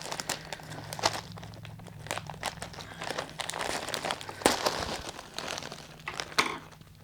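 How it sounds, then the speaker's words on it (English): Plastic packaging bags around designer clothing items being cut and torn open, giving a close, continuous crinkling and rustling with sharp crackles and tearing bursts, with no talking. "I'm always bothered about cutting into fabric when I cut these bags open."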